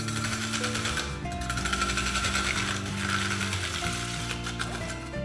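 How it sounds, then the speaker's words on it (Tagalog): A Saladmaster food processor cutting onions on cone number 4 gives a close, continuous mechanical whir with a rapid rattling pulse, holding steady throughout. "Now I'm going to use the Saladmaster machine, code number 4, to cut some onions."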